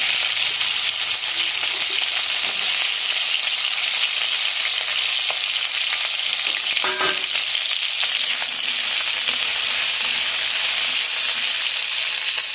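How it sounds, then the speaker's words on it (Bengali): Crabs fry in hot oil in a wok with a loud, dense, unbroken sizzle and crackle that holds steady for over twelve seconds, with occasional stirring scrapes and no talking. "কাঁকড়াগুলো ভাজার জন্য দিয়ে দিচ্ছি।"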